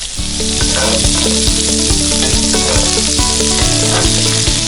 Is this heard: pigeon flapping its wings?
no